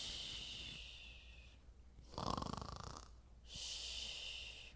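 A voice imitates loud snoring during a bedtime story: a steady breathy inhale-like hiss, then a rattly, rumbling snore in the middle, followed by another long airy breath, close and alone without talk.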